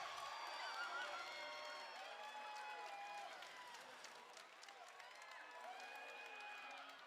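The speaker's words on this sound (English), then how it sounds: "Let's give a round of applause for the Red Alliance teams." Audience at the 2023 FTC Power Play World Championship robotics eliminations applauding the alliance teams, a sustained wash of clapping and cheering from a large crowd, fairly distant and even in level.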